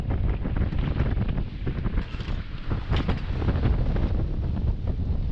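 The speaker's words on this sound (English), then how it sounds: "We have the wind at our bow. We are sailing now." A sailboat sails close-hauled at sea, with strong wind roaring and buffeting across the microphone in a constant dense rush, and water sounds mixed beneath.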